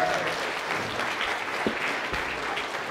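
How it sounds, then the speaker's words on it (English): A conference audience at a morning opening session applauds steadily for the host as he takes the stage, a dense continuous roar of clapping with a few cheers mixed in, loud and sustained throughout. "A cheer from the left of the room."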